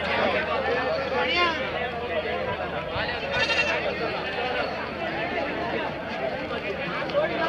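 Sheep and rams bleat a few times at a busy weekly village market, their calls rising over a constant babble of crowd chatter and people talking nearby.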